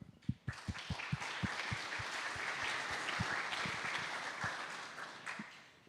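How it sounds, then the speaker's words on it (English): Conference audience at a tech event applauding the organizers, a broad round of clapping with sharp individual claps, swelling then tapering off. "let's give the organizers a big round of applause for setting this up"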